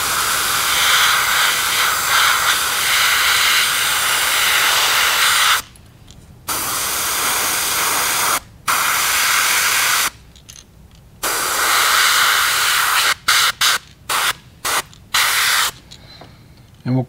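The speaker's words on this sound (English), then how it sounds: "I sprayed the nose and the gill plates and the belly underneath the throat with this flamingo pink" An airbrush sprays flamingo pink paint onto a fishing bait, a loud, close, steady hiss broken by several short pauses and a quick run of brief bursts near the end, with no talking.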